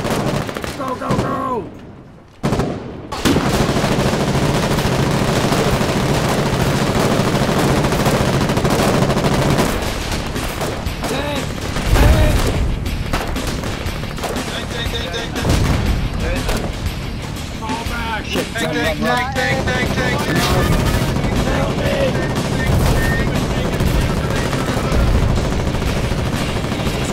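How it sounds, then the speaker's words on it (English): Sustained gunfire from a Foxhole war battle, rapid rifle and machine-gun bursts mixed with heavier artillery booms, loud and continuous throughout with dense overlapping shots and occasional voices underneath. "Now we start shooting at them to suppress them."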